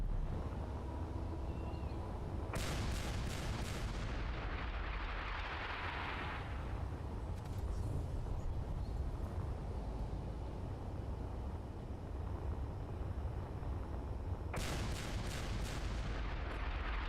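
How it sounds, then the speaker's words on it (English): Gungnir weapon in a video game firing at everything around it, with two loud bursts of rapid shots a dozen seconds apart over a steady low rumble and a brief hissing burst after the first. "it's going to go crazy and start shooting everything"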